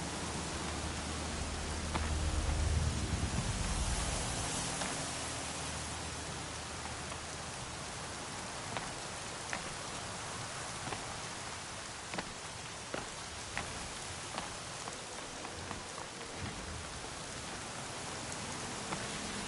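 Steady rain in the Horizon video game, a dense even hiss of falling drops with scattered louder taps and patters throughout, heard alone with no talking.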